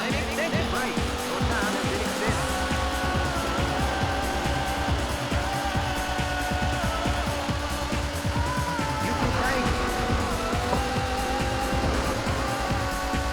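A car engine drones and revs steadily in a Sega Saturn racing game, with tires squealing now and then. Game music plays throughout, and a voice talks over the engine.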